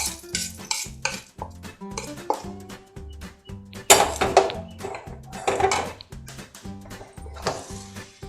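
Rice being stirred together with a spice tempering for bisi bele bath, spoon scraping and clinking against the pot in repeated close strokes, with a few louder clanks midway, and a rhythmic thumping pulse underneath.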